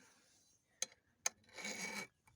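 Hand file drawn across the teeth of a chainsaw chain during sharpening: two short sharp rasping strokes, then a longer gritty scrape, close and fairly quiet with no talk.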